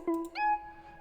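A custom synth patch built in the FL Studio Harmless plugin plays two short, clean sustained tones in quick succession, the second brighter and richer in overtones, heard alone.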